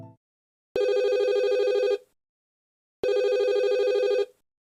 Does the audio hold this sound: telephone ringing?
yes